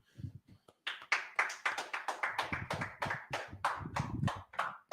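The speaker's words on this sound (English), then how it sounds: "go ahead, clap it up." A small group of people claps hands at a brotherhood class, with rhythmic, fairly close claps in a steady run after a few scattered taps at the start.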